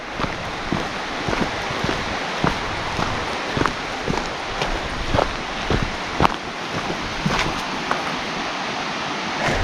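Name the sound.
river flowing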